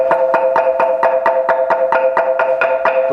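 A sustained la, do, mi chord rings from several bamboo angklung shaken at once, a close, steady rattling tremolo of quick regular pulses holding for about three seconds without speech.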